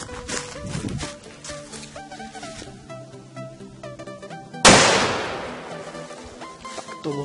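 A La Bomba firecracker goes off with one sharp, loud blast that decays over a couple of seconds, preceded by tonal background music and clatter.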